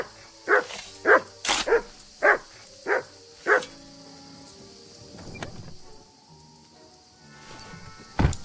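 Dog barking in the video game Kingdom Come Deliverance 2, six sharp evenly spaced barks near the start, then crickets chirping steadily in a quiet outdoor night.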